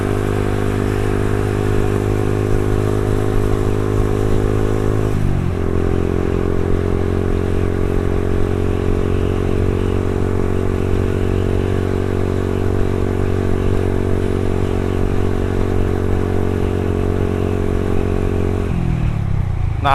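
Yamaha Xabre 150cc motorcycle engine running steadily close by, a loud continuous droning hum with a strong harmonic buzz and two brief pitch dips, alone without talk.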